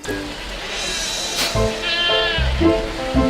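Goats bleat several times at close range, with wavering cries repeated over a steady background hiss; they are kept and bred for meat, including Boer and Anglo-Nubian breeds, in Tarlac.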